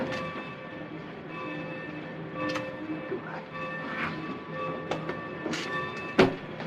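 A train rolls along the rails in a 1947 film scene, a low rumbling with sharp metallic clanks and a brief loud bang near the end, heard faintly in the background.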